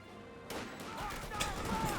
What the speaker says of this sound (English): Lig now being employed on the field.